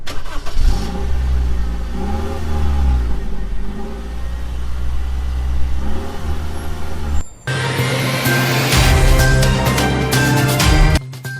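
A car engine cranks and idles with a low rumble, cuts out briefly, then catches and revs loudly with a steady hum, close and strong, no voices.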